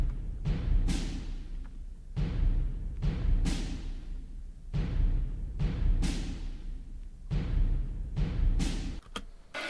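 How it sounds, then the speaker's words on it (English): Orchestral drums beat a simple, repeating rhythm in the break of a demo song mix, booming, roomy hits recurring roughly every second with long decaying tails, loud and upfront without any voices. "And we got some orchestral drums that I put in this like weird break part"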